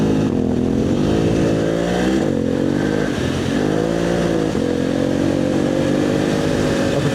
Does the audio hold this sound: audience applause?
no